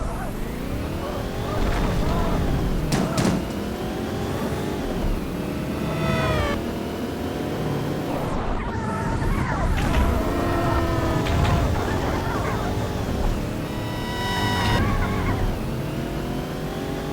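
Bus engine in the Payback 2 video game drives and accelerates in a steady, loud drone with rising and falling revs that continue throughout, with no pauses.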